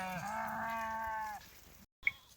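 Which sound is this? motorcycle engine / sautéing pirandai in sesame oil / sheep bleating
sheep bleating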